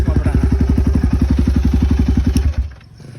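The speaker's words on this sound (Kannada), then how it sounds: "ಸೊ ಇದೇ ಒಂದು ನಿಮಿಷ ಗಾಡಿ ಆಫ್ ಮಾಡ್ಬಿಡೋಣ." A motorbike engine idles with a steady close chugging beat for about two and a half seconds, then cuts out abruptly and the sound dies away, at a hill temple area during a festival.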